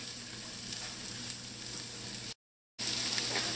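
Onions and peppers frying with turmeric in a pan for saffron rice with vegetables, giving a steady close sizzle with a brief dropout of silence near the end, no talking.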